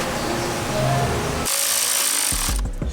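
A 12mm bolt is tightened to hold a part down on a Subaru WRX engine, giving brief bursts of close metallic tool rubbing and scraping, with abrupt changes in tone and no talking.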